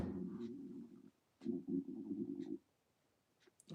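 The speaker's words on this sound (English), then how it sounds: "but that was my stomach." A person's empty stomach gives two drawn-out, low gurgling rumbles close to the microphone, separated by a short pause, in an otherwise quiet room.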